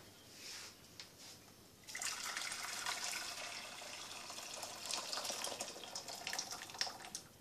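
Boiled water from a kettle poured into a bowl on the hob, a steady hissing splash starting a couple of seconds in after quiet, continuing close and fairly loud with no talk.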